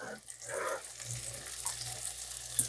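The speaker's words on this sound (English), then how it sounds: "I'm going to add the sage now" Fresh sage fries in a very hot pot on a wood-burning stove, giving a soft, steady close sizzle with faint crackle and a brief sharper pop near the end, without speech over it.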